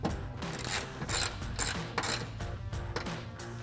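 A ratchet clicks rapidly in quick bursts, close and crisp, as it tightens a 10mm bolt holding the headlight ground wire on a 2012-2015 Toyota Tacoma.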